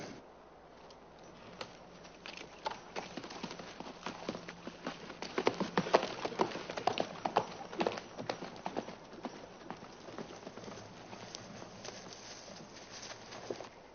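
Many hooves clatter in a steady, busy patter, like several horses trotting together at moderate distance over hard ground, continuing for the whole stretch.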